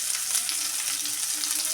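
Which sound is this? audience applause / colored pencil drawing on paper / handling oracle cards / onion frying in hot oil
onion frying in hot oil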